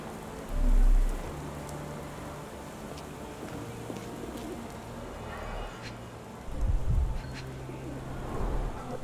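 Steady rain patters over a street in the Sherlock Holmes: The Awakened video game, a soft continuous wash broken by a couple of low rumbles and faint bird calls.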